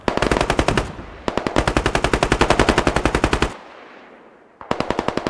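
Kalashnikov machine gun fire in the video game Squad: long, loud, rapid bursts close by, broken by a short gap, a quieter stretch, then a fresh burst at the end.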